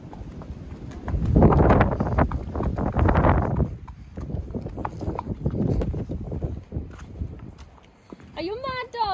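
A ridden horse's hooves clop at a walk on firm ground, under heavy wind noise and people talking nearby, with a brief bird chirp at the end.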